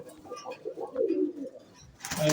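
Pigeons in a rooftop loft coo in low murmuring phrases near at hand, with a sharper rustling burst at the end.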